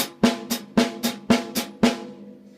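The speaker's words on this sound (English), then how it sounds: "Off beats would sound like this." Drum strokes fall in a steady off-beat eighth-note pulse between hi-hat notes, with strong accented hits alternating with lighter ones in between, ending with a fading ring.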